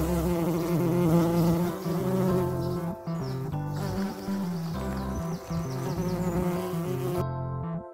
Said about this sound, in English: H for honeybee